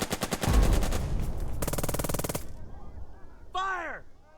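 Gunfire in the World War II tactics game Burden of Command, with rapid machine-gun bursts and a dense volley that end abruptly, followed by a brief warbling tone, loud and close.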